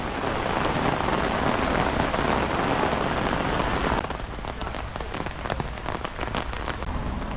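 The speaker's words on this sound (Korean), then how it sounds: "비가 오기 시작합니다" Steady rain beginning to fall along a mountain trail near a national road, a dense continuous patter on surfaces that thins slightly partway through, with scattered sharper drop hits continuing to the end, no voices.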